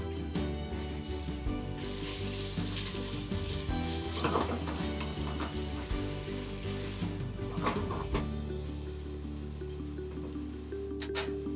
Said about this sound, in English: We just only oil, but it's nicely frying.